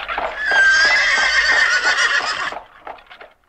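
Horses pulling a carriage give a loud, long whinny close by that rises and holds for a couple of seconds before breaking off, followed by a few fading snorts, with faint hoof clatter beneath.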